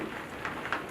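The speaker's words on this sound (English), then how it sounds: "I apologise about the noise of the rain." Steady hiss of rain falling, a continuous wash of noise with faint patters throughout, fairly soft and with no voices.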